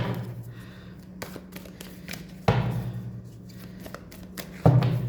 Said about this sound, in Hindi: तो जब मैं कार्ड शफल कर रही हूँ